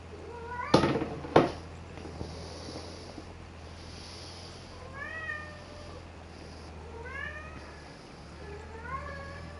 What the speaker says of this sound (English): That noise you can hear in the background is my cat